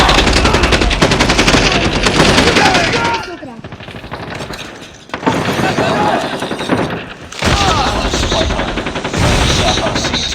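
Sniper fire in a video game comes as loud, dense bursts of shots separated by short lulls, close and harsh throughout.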